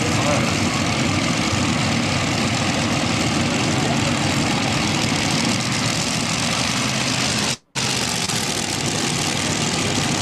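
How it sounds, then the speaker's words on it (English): An unlimited modified pulling tractor engine roars steadily and loudly at close range, a dense continuous drone that holds for the whole span apart from one brief dropout near the end. "This is the unlimited modified tractor."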